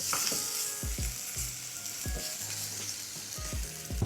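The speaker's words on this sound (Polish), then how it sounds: "Dajemy troszeczkę oliwy i kładziemy na patelnię" Steady sizzling of chicken frying in olive oil in a pan, a constant hiss with occasional soft knocks from a utensil in the pan.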